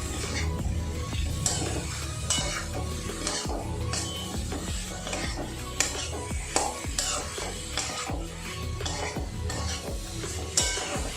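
Mushroom curry being stirred in a pan, with frequent close scrapes and clinks of a utensil against metal over a low, steady sizzle throughout.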